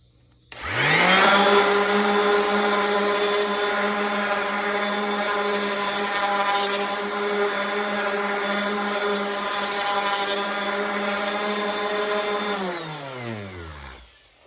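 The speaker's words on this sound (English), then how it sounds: "so that's all there is to sanding that. It's nice and smooth." A power sander whirs steadily on wood for over ten seconds, close and loud, its motor spinning up at the start and winding down at the end.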